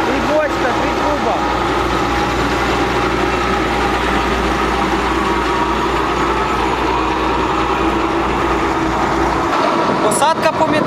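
A tractor's heavy diesel engine rumbles steadily at close range, a constant low drone with mechanical clatter, cutting off near the end.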